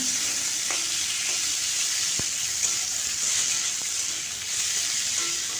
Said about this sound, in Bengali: টমেটো আর পেঁয়াজ আর অন্যান্য মশলা সব কিছুক্ষণ ভেজে নেব